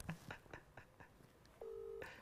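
An unanswered phone call gives a quiet run of short, evenly spaced beeps, then one longer steady tone near the end, with no voices.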